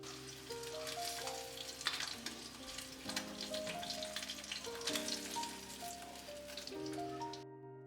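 Small puti fish frying in oil, a soft continuous sizzle and crackle under background music.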